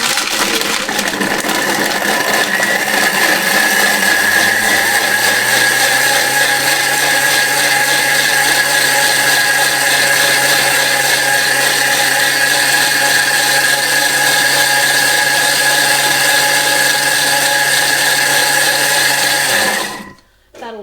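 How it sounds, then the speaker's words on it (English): A Thermomix TM6 at speed 10 on blend mode whirring loudly and steadily as it crushes ice for a drink, the high motor whine holding constant for about twenty seconds before stopping abruptly. "So up we go for a second to speed 10 on the TM6 on blend mode, 30 seconds."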